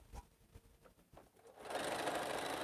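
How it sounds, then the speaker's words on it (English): Sewing machine stitching a quilt, starting with a few soft taps and clicks, then running in a continuous close, steady whir for the last second. "I'm doing the sewing and the quilting."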